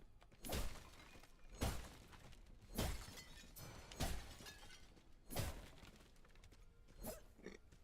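Barrels smashing apart in the video game Wayfinder, a series of six sharp breaking cracks spaced about a second apart, each followed by brief debris, fairly close and alone without talk.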